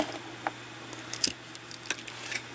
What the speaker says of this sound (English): I'm going to cut off the tail